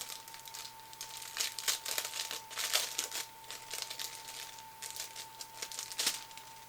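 Paper envelope in a makeup kit unboxing being opened, giving soft close crinkling and rustling bursts throughout, with a steady faint electrical hum underneath.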